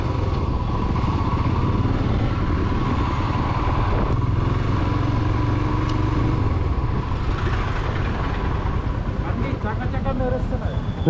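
A Royal Enfield Himalayan motorcycle rides on a road with a continuous, close engine rumble and some clattering road noise, holding steady throughout with wind and mechanical rattle layered on top.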